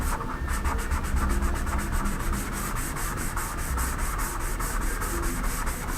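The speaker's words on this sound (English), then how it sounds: "And what we do is just go ahead and sand this." Sandpaper is worked back and forth over a homemade wooden guitar body with an arched top, a steady close rasping scrub in even repeated strokes for the whole stretch with no voices.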